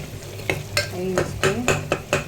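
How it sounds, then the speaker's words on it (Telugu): A spoon stirs chilli powder through sizzling Rayalaseema chicken biryani masala with tomatoes in a pan, giving regular scraping strokes about twice a second over a steady frying hiss, close up with no voices. "తగినంత కారం పొడి కూడా వేసి కలుపుకోవాలి."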